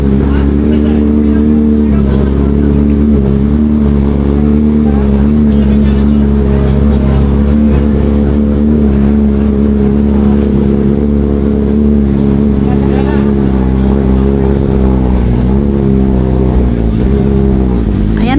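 Several motorcycle engines idle and rumble steadily nearby at a rider event in Bacolod City, with occasional revs rising and falling during pre-ride checks, while a person talks over the noise.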